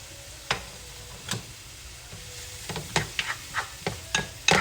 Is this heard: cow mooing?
no